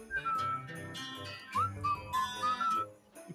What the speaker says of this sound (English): That was like a ghetto version whistle.